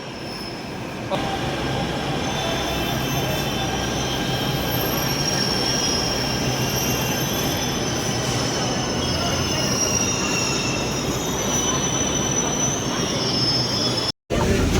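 An Agra–Delhi metro train rumbles loudly into a station, wheels squealing and a steady roar throughout, ending with a sudden cut.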